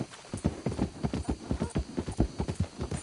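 A horse clip-clops at a steady trot in the Red Dead Redemption 2 video game, with close, evenly spaced hoofbeats throughout and no talk over them.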